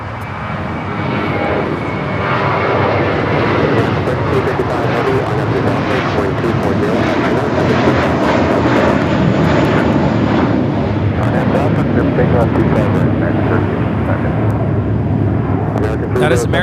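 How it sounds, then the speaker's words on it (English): An American Airlines A321 jet takes off at LAX, a loud, steady broadband engine roar that holds and swells throughout, with a person talking over it. "That is American 307 taking off to JFK on the A321"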